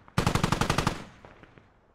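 A machine gun fires in a military video game firefight in Logar Valley, one rapid burst of about ten close, loud shots that ends sharply and leaves a fading echoing tail.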